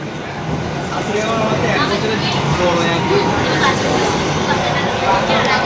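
Inside a moving metro train, a steady, dense rumble fills the car throughout, with people chattering and talking over it.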